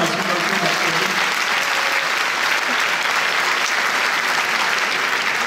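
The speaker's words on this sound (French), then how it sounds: "merci, vous pouvez vous applaudir" A packed hall of about 2,400 people at a film premiere at the Grand Rex in Paris claps continuously, a thick, unbroken roar of hands with murmurs blended in.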